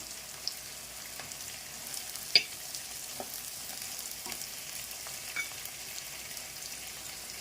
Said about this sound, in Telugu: ఎర్రగడ్డ బాగా మగ్గింది, ఫ్రై అయింది.